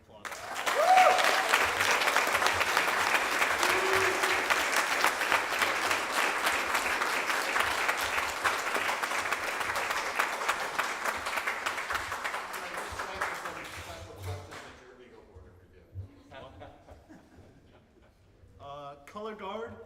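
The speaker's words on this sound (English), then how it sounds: "let's just give him a round of applause." An audience at an Eagle Scout court of honor claps in sustained, even applause for about fourteen seconds before it fades out and a few voices follow.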